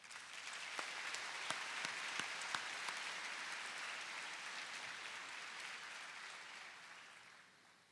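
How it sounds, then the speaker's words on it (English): A high school commencement crowd gives a round of applause, broad steady clapping that holds throughout at a moderate distance and fades gently at the close. "One more round of applause for Ms. Barrett."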